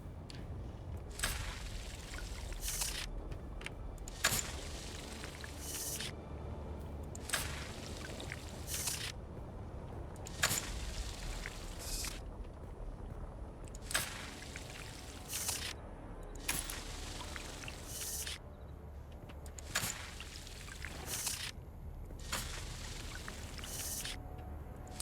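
Water is gathered in the video game Dune Awakening: a low watery trickle runs throughout, broken by repeated bright bursts of splashing or pouring every couple of seconds, with no speech.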